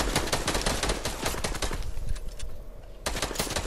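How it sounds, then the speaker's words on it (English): Sustained automatic gunfire in the Fortnite video game, loud and rapid with dense overlapping shots, a short lull, then another burst of fire at the end. "Keep shooting, keep shooting."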